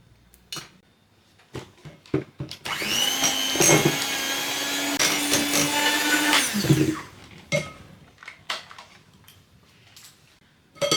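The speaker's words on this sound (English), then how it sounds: "We'll start by whisking our egg yolks and our icing sugar for a few minutes until smooth." An electric mixer whisks egg yolks and icing sugar for French sablé cookie dough, a steady whirring whine that starts after a few scattered clicks and knocks, runs for about four seconds, then cuts off into light kitchen clatter.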